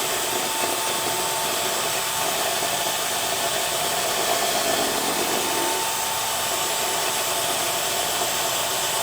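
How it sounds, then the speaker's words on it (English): A power mixer churning epoxy gives a steady, loud whirring drone throughout without a break. "And then I'll continue to mix for 3 to 5 minutes."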